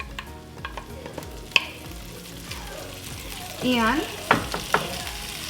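Onions and peppers frying in a pan, a steady low sizzle with scattered stirring clinks and scrapes; a voice speaks briefly and faint sliding tones appear near the end.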